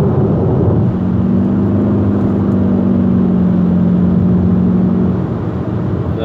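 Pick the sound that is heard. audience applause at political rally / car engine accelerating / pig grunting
car engine accelerating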